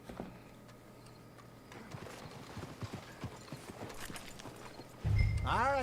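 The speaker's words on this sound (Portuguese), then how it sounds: "Os cavalos vindo junto." Horses clip-clopping along in the Red Dead Redemption II video game, a steady run of hoof beats on the ground with a whinny near the end, under faint background sound and a brief loud thump.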